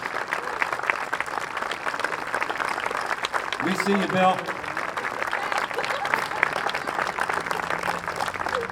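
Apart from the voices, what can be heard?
audience applause for veterans at a big band concert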